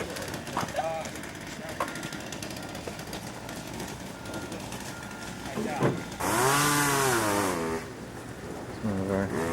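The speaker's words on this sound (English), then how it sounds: "Father Herd's swinging away at the chainsaw" A chainsaw runs in short revving bursts in the background, rising and falling in pitch with a louder sustained rev near the end, while people talk over it.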